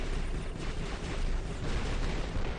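Explosive weapons detonating in a War Robots match with a Sting Blitz setup: a continuous, dense roar of blasts and crackling bursts, steady and loud throughout, with no voices.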